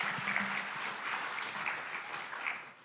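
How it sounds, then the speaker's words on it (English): At a Gray Area arts and technology talk, an audience applauds the artists of an art collective from Rotterdam, with steady moderate clapping from a roomful of people that fades toward the end. "So please give a round of applause for the Macular Collective and Sophie"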